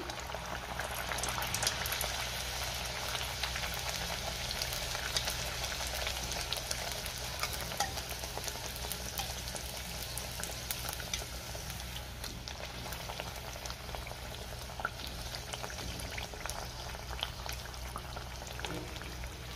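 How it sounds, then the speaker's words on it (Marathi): Leftover-rice vadas deep-fry in hot oil in a wok, giving a continuous, even bubbling hiss with fine crackles that holds steady at close range for the whole stretch, with no voices. "आता आपण हे वडे तळून घेऊया।"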